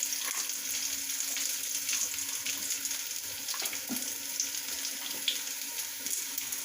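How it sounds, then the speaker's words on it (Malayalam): Onions frying in a pan and stirred until browned, before ginger and green chilli go in: an even, continuous hiss of sizzling fat with faint scrapes and ticks from stirring, steady and close throughout. "ഇത് നന്നായി ഇളക്കുക."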